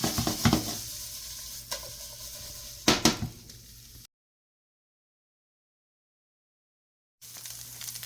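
Pork heating up and crisping in a pan, giving a soft close sizzle with a few sharp stirring bursts that cuts out to complete silence midway before the sizzle returns.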